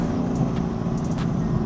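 Cabin sound of a BMW M4 with a new exhaust, driven with a window open: a loud, steady low engine drone with wind rush and a few brief higher hisses, and no talk.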